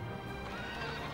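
In the Dragon Quest VIII video game, a horse lets out a loud, brief whinny with a harmonic, wavering pitch. Faint hoof clip-clop sounds underneath, and no one speaks.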